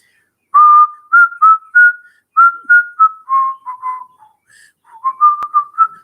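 A person whistling a tune, clear, close melodic notes in short phrases with brief pauses between them, alone with no other sound.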